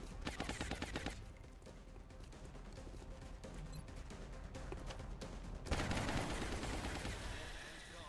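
Enemy gunfire in the video game Long War crackles as rapid bursts of shots, first loud and fast, then a dense steady stream of firing with a louder flurry near the end.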